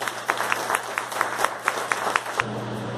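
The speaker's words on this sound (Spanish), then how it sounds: "muy fuerte aplauso." Applause at an academic welcome ceremony of a national history and geography academy, a moderate crowd clapping with distinct sharp individual claps in a fairly regular rhythm, and a low steady hum underneath.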